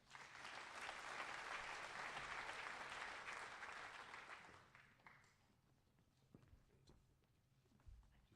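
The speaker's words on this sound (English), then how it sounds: "Let's give Kelsey and Haley a round of applause." Audience applause at an agricultural program spring banquet, a dense steady clapping from a room full of people that swells for several seconds and then thins out to a few scattered claps and light movement.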